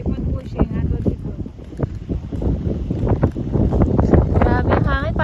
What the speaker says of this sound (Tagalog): Grabe yung hangin, parang nasa beach